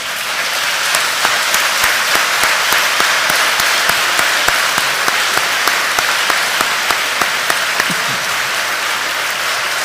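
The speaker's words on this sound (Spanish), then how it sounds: "Denle un fuerte aplauso al Señor." A church congregation gives a loud, sustained round of applause for about ten seconds, many hands clapping at once in a thick, steady wash that stays strong throughout, with no voices on top.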